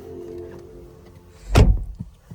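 A 2025 BMW X3 car door opens with a low mechanical hum followed by a single solid thunk near the end, heard up close with no talking.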